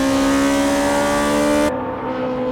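Toyota AE86 Hachiroku race cars on a circuit in an amateur N2 race, a loud close engine wail at high revs that holds steady, then cuts sharply as the car passes and fades into duller engine noise.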